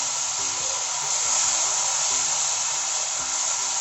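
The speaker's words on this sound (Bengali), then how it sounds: "এইবার পেঁয়াজটাকে ছেড়ে দিচ্ছি, পেঁয়াজ বাটা।" Onion paste hits hot oil in a pan with bay leaves and whole garam masala, giving a loud, continuous sizzling hiss that stays steady throughout with faint background clatter.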